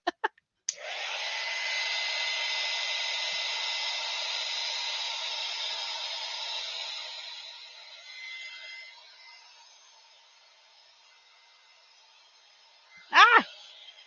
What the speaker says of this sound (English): where's my heat gun?